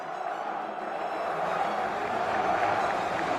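An arena crowd at Evo 2024 cheers and applauds for Tororo after the Granblue Fantasy Versus final, a dense sustained roar that swells slightly toward the end.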